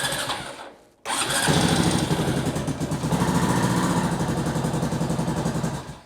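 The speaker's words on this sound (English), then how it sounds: "The engine sounds good." A Honda TRX350TE Rancher ATV engine with an exhaust leak cuts out briefly, then fires back up and runs at a loud, steady, throbbing idle close by.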